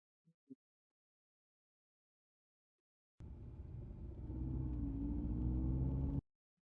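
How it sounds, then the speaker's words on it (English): A car engine in a video game cutscene starts abruptly and drones steadily as a low, rumbling driving hum, rising slightly in pitch, then cuts off sharply, preceded by a couple of soft clicks. "That ambient driving sound."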